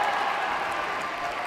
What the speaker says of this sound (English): Well, the roars from the Cairo crowd.